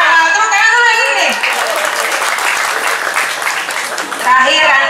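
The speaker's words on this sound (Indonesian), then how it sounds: "Tepuk tangan dulu yang ini nih" Audience at a West Jakarta party branch consolidation gathering claps in a steady wash of applause, loud and close, with a speaker's voice heard at the start and end.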